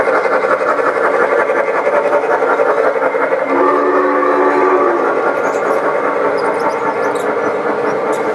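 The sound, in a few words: model train running on indoor layout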